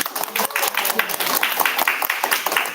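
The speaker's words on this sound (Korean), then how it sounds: "박수" Crowd applause at a Korean content creator presentation, dense steady clapping from many hands lasting throughout, fairly loud and close.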